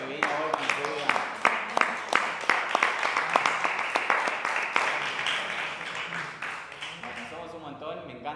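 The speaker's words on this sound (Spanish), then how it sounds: "aplauso a todo el mundo que vino hoy con su vida." An audience at a talk on friendship at Centro Rulo applauds steadily with many overlapping hand claps and sharp individual slaps standing out, and the clapping thins toward the end.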